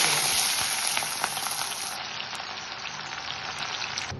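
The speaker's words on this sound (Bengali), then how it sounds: "এবার পেঁয়াজ কুচিগুলো ছেড়ে দেবো" Chopped onions sizzle and crackle steadily in hot oil in a home kitchen, fried down for biryani; a dense, loud hiss with scattered pops runs throughout without any talking.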